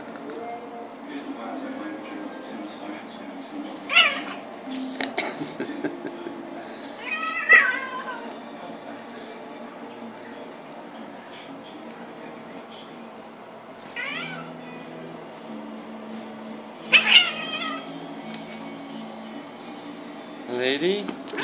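Two Sphynx cats play together, giving short, scattered meows and chirps at intervals over a steady low hum, with a person talking softly between the calls.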